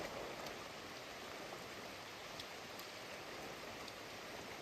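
Steady rain pours down outdoors near a place where freshly caught fish are being cleaned, a dense continuous hiss with no breaks and no voices.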